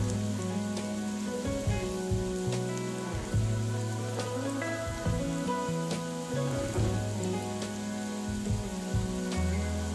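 Bitter gourd slices frying in a pan with salt: a steady, soft sizzle with crackling spatters, continuing evenly and fairly quiet throughout, with the occasional clink of the pan, and no talking.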